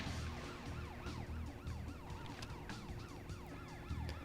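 Police car siren wailing in the racing action game Driv3r on PS2, continuous rising and falling tones layered over car engine noise, steady and fairly loud for the whole stretch.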